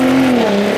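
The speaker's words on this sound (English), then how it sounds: "I'll throw in a little exhaust clip here from the outside." A deep, steady exhaust drone from a Gen 3 Ford Raptor's twin-turbo V6, recorded outside, loud and close, with a low rumbling tone that dips slightly in pitch partway through.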